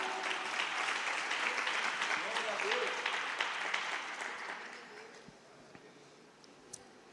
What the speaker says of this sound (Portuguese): Aplauda o Rei dos Reis